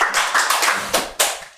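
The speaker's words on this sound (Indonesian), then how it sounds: "tepuk tangan dulu untuk" Scattered claps ring out from the audience at a gubernatorial debate, a handful of sharp, separate hand strikes with short gaps between them rather than a full ovation.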